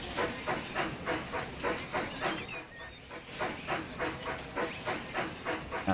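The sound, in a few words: steam train running in Railroad Tycoon 3 video game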